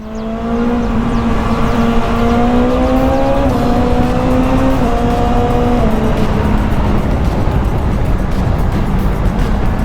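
A 2022 BMW S1000XR sport motorcycle with an Akrapovic exhaust revs hard with a loud, raspy exhaust note, the pitch climbing steadily and holding high, roaring close by.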